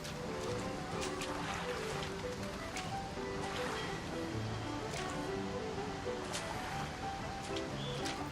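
Water waves in the video game Bioshock Infinite wash steadily, a continuous surf-like wash that stays at the same level through the stretch, mixed with faint ambient game tones and no speech.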